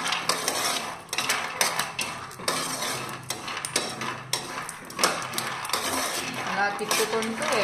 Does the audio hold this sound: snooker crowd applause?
no